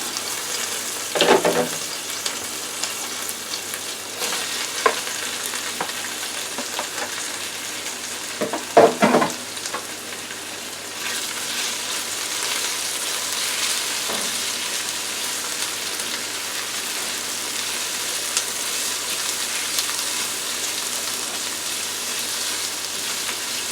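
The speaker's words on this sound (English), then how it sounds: "let's get back to our onions cooking. Okay, let's add our peppers." Onions and peppers sizzle steadily in a frying pan, a constant loud crackling hiss with occasional clatters and stirring knocks, no voices.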